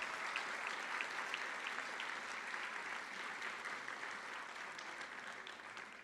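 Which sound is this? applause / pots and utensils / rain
applause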